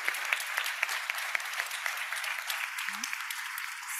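An audience at an international migration dialogue conference claps steadily for panelists, a moderate, even wash of many hands with a brief voice surfacing near the end.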